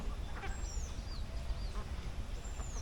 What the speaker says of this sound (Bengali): এই পুকুরে সুন্দর এই যে সাদা হাঁসগুলো জলকেলি করছে